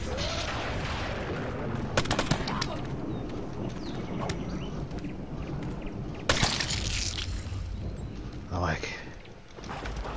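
Bursts of machine gun fire in the video game How to Survive 2, sharp rapid volleys in short clusters over ongoing game noise, with a louder burst later and scattered impact crackles between.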